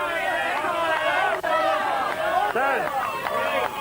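Crowd noise at a strongman competition at Alton Towers, a steady murmur of spectators with occasional cheers and shouts, continuous and fairly loud throughout.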